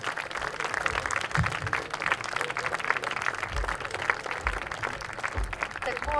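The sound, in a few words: audience applause at a concert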